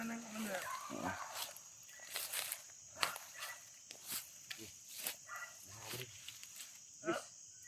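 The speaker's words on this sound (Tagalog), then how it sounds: "Huwag kang mag-alala sa mga aso na yan." Dogs bark in a forest in short, separate bursts spread across the clip, each fairly near and moderately loud, with quiet rustling between them.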